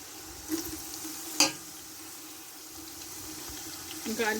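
Garlic cooks in rice oil in a pan, giving a steady low sizzle with a couple of brief clinks and scrapes. A faint voice comes in near the end.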